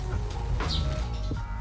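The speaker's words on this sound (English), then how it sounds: "those birds outside, they're really distracting" Birds chirp and call faintly outdoors over a steady low background hum, with a few brief higher tweets standing out.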